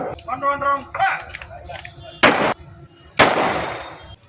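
Police firing guns during a mob control drill: two sharp loud bursts about a second apart, following a brief patch of talk and a shout over outdoor background noise.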